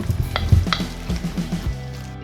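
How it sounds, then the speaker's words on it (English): Canned mild enchilada sauce and shredded rotisserie chicken mixed in a pan, with close, wet stirring and soft scraping sounds over a short stretch, and a few clinks from the utensil. "Just going to mix that together"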